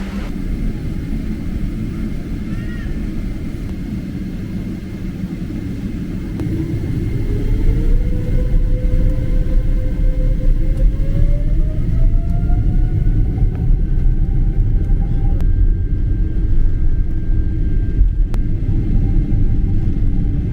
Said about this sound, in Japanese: それではバルセロナ行きエミレーツ航空乗り込んでいくぞ。